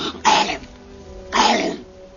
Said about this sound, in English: it feels like you constantly have to clear your throat